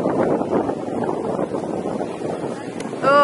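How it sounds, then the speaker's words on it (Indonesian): Strong wind buffets the microphone at Marina d'Or beach in Spain, a loud, steady low roar with gusty swells throughout, with faint distant voices underneath. "Anginnya kencang banget,"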